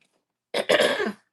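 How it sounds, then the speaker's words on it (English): A single rough throat clearing, close and fairly loud, in a short burst after a moment of silence, with no talking. "let me clear my throat here"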